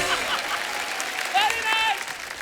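A studio audience at a comedy show claps steadily, the applause running under a voice speaking over it.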